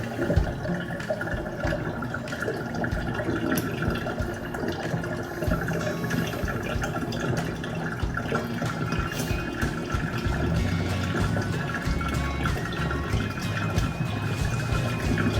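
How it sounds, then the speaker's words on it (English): Water drains from a household sink in a steady, close gurgling rush that continues without a break, with no talk. "Waiting for the sink to drain."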